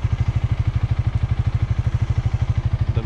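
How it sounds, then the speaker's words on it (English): A motorcycle engine revving with the clutch held, a loud close pulsing throb in rapid even beats that holds steady throughout. "you can rev as much as you want, it's not going to do anything"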